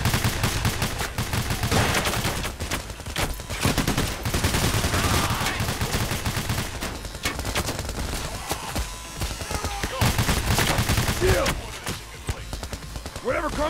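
Gunfire in the heist shooter Payday: The Heist, dense bursts of automatic and single shots throughout, loud and chaotic, with players shouting over the shooting.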